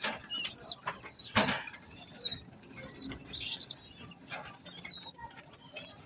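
Racing pigeons in a loft on a hot day, with soft cooing, chirps and a brief burst of wing flapping near the mic over a steady murmur of birds.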